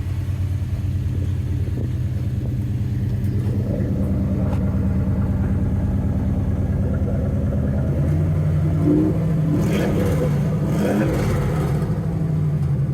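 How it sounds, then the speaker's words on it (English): A restomodded 1952 Chevy 3100 pickup's loud, throaty engine rumbles at idle with exhaust cutouts open, then revs up with a deeper, raspy exhaust roar toward the end, close by. "Oh, exhaust cutouts. Yeah, let me hear that."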